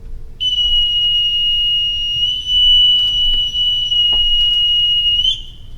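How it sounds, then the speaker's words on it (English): A boatswain's pipe pipes the side at a U.S. Navy retirement ceremony: one long, shrill, steady whistle held for about five seconds before it ends in a brief rising flourish. "Bosuns, stand by to pipe the side."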